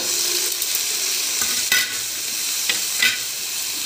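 Thinly cut, washed potatoes fry in hot oil for egg burji, giving a loud, steady sizzle with a few scraping stirs of the pan and no talk.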